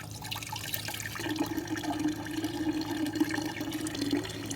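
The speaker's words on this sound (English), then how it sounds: "When water starts running," Water running steadily from a DIY gravity-fed, electricity-free water system into a 5-gallon container, a constant close splashing stream with a faint hum underneath.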